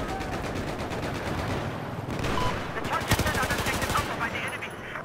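Rapid automatic gunfire from a rifle fitted with a heavy barrel and flare sight in Battlefield 4, dense rattling bursts with sharp reports, loud and close, stopping briefly before a final cluster of shots.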